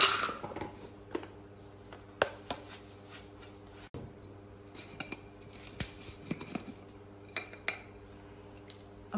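Chopped eel being mixed by hand with seasoning and snail oil in a bowl, with soft repeated clinks, scrapes and wet squelches in an irregular rhythm, close and fairly quiet.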